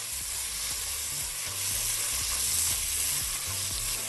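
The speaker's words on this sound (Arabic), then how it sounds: "وقلبي بقى الطماطم كده مع البصل والثوم" Tomatoes frying with onion and garlic in a pan, a steady close sizzle with soft scraping thumps from stirring throughout, no talk.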